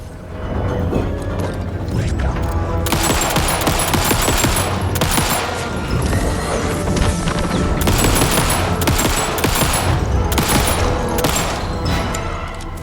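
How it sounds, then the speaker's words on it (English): Rapid, dense bursts of fully automatic gunfire from Alan Wake II rattle on almost continuously, loud and close, mixed with mechanical clatter and game music underneath, with no talk. "Oh, the gun is fully automatic too."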